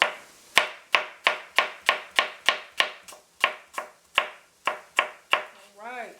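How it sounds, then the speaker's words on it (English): A knife slices an apple into medium-sized pieces on a cutting board, with about fifteen crisp, close chops in a steady rhythm that slows slightly toward the end, followed by a short voice. "So now let's start slicing this apple."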